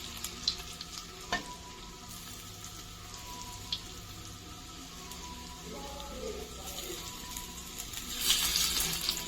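Banana fritters sizzle in hot oil, a steady crackling fry with scattered pops that swells louder toward the end, with no talking.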